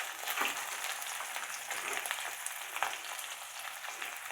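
Ginger paste sizzles and fries in hot oil in a pan with curry leaves and chillies, a soft, steady crackling hiss with small pops, faint and close, with no talk.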